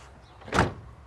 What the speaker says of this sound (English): Just listen to these doors.